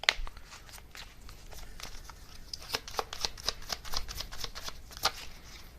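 Oracle cards from a deck being shuffled by hand close up, a run of quick papery riffles and soft slaps repeating in a brisk, uneven rhythm, fairly quiet with no talk.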